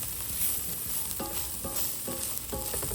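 Ground turkey sizzles steadily in oil in a pan while being stirred, with scraping strokes coming at a steady rhythm over the constant frying hiss, and no voices.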